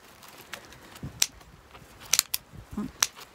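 Scissors snipping off a price tag from a craft item, a handful of sharp, close clicks and snips spaced irregularly over a few seconds in a quiet room.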